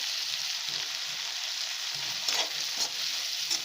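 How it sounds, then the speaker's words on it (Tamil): Chopped green capsicum sautés in a pan, making a steady, soft sizzle of frying with a few brief stirring scrapes and no voices. "கேப்சிகம் வதங்கின்னு இருக்கு"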